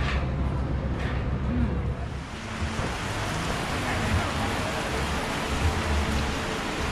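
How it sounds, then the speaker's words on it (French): Rain falls steadily in northern Hawaii as a broad, even hiss that carries through the whole stretch, with faint low rumbling underneath and no talking. "Dans le nord il pleut."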